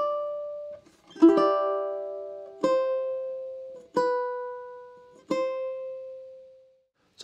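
Ukulele picking a melody from The Legend of Zelda, measures three and four: a few plucked chords and notes ringing out one after another at a slow, even pace, close and clear with no voice.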